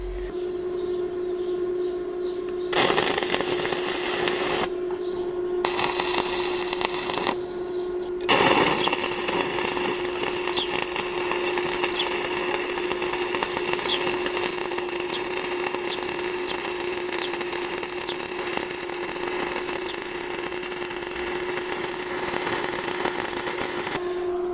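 Stick welding two 6 mm steel plates flat with a 2.5 mm rutile electrode at about 75–80 amps on an ARC 320 welder gives a steady, close crackling hiss over a constant electrical hum, with a few louder bursts and no voices.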